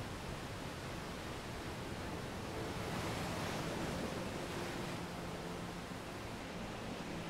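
Stormy sea waves in the Octopath Traveler video game, a steady broad roar of surf and wind that swells slightly in the middle and holds at a constant level throughout, with no voices.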